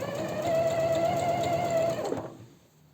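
Sewing machine stitching a backtack on a silk blouse, a close steady whir for about two seconds that stops abruptly, followed by faint quiet.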